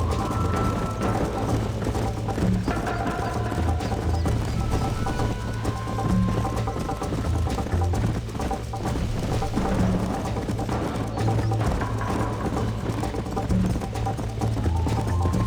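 Horse hooves gallop in Red Dead Redemption on PS4, a fast, steady clip-clop rhythm running the whole way at close range over a low background bed.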